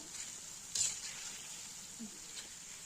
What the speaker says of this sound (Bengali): আর একটুকু ভেজে নেব